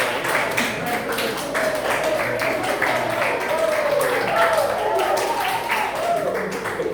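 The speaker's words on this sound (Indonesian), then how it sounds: "Tepuk tangan untuk anak-anak." Steady, dense applause from a school audience for children, sustained at an even level throughout with a murmur of voices running beneath the clapping.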